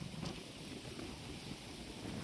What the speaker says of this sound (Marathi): वारं भरपूर सुटले.